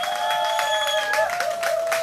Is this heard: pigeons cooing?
no